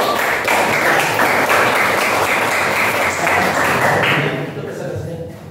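A class at a university teacher-certification session applauds a presenting group, with brisk, full clapping that holds steady and then tapers away near the end.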